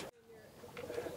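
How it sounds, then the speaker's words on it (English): A large, slightly dirty king pigeon gives a soft, low coo up close after a brief sound cuts off, the call faint and drawn out near the end. "This is a king pigeon, and he's a little dirty, but see how big he is?"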